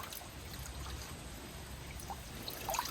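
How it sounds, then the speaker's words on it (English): Mountain spring water filling a siphon pipe outdoors, a faint steady trickle and gurgle with low background rumble throughout. "If I go faster with the filling the water into the pipe, there's a greater effect"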